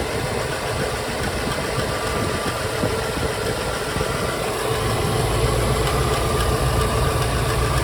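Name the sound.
Jensen Healey V8 engine idling with intermittent tick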